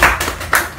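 A small group claps briefly for a student at an iPhone repair training class, two quick bursts of hand claps heard close and fairly loud, with no talking.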